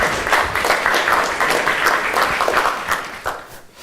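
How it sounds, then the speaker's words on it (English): A small audience claps for a volunteer at an education conference session, a short burst of scattered, moderately close hand claps that thins out near the end. "Round of applause for Miss Mosley."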